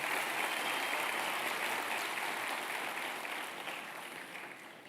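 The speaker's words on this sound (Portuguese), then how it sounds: "Eu queria que você desse uma salva de palmas a essas pessoas." A church congregation at a Sunday evening family service in Fortaleza claps for first-time visitors, a dense, even wash of applause that gradually fades toward the end.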